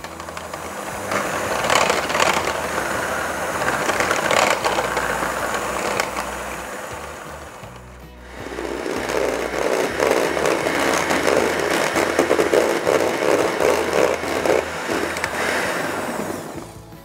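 An Aobosi 1.5 L ice cream machine mixing speculoos ice cream, its motor whirring and droning steadily and close, dipping briefly midway before rising again at a higher, louder speed.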